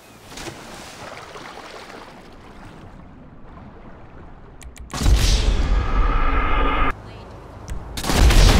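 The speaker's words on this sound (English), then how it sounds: "Stop shooting up my house!" Gunfire aimed at a house in the video game GTA 5 erupts as a loud, dense burst of shots partway through, after a stretch of quieter game ambience, then breaks off and returns near the end.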